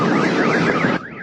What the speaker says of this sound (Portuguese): Alarmes de automóveis dispararam.